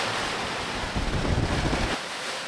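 Waves crash over the bow of a sailboat on a rough passage in about 24 knots of wind, a loud surging wash swelling in the middle and then easing back into steady wind and water roar.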